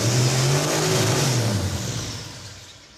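A turbocharged Mazda engine revs hard at close range, a loud sustained roar that holds high and then slowly winds down and fades.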